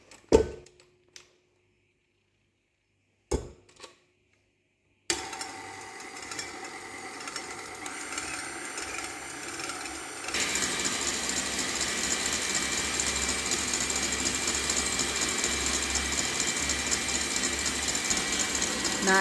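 Electric mixer whipping a cake mixture with added sugar until stiff. A few clicks and knocks come first, then a steady motor whir starts and grows louder and harsher as the speed goes up.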